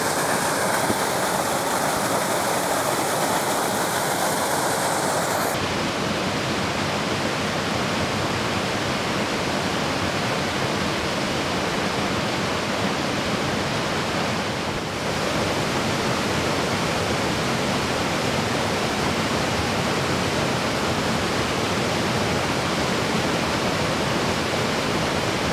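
A waterfall on Pencil Pine Creek in Cradle Mountain National Park pours into a small deep pool, a steady loud rushing roar that continues unbroken throughout with no voices.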